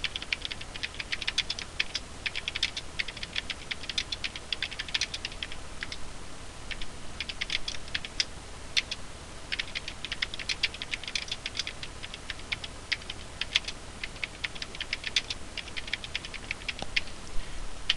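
Keys clatter on a computer keyboard in steady bursts of quick, light taps, close and moderately quiet over a faint constant hiss, with brief pauses between phrases.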